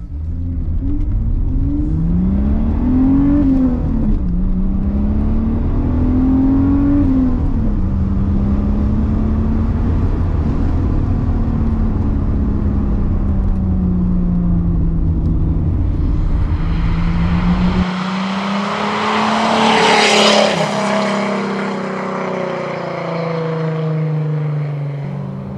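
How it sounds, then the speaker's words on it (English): A Renault Alpine GTA Turbo accelerates hard through the gears, engine note climbing and dropping with each shift, ending in a louder, rougher burst of turbo and exhaust noise; close and loud, no talking. "Let's take it through the gears again."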